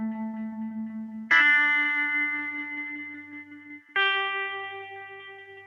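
Mellotron M4000D rock guitar tones ring out through delay and Undulator effects: a sustained chord swells, then two strong new chords strike and decay slowly with shimmering, wavering movement.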